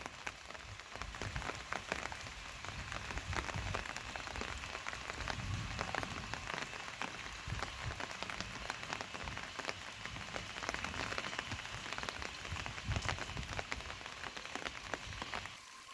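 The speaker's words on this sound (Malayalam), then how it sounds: "നല്ല അടിപൊളി മഴ പെയ്യുന്നുണ്ട് ഇവിടെ" Steady heavy rain pours down on surfaces in a misty, cold hill area of Vagamon, Idukki, a dense continuous hiss with scattered heavier drops, loud and unbroken throughout with no talking.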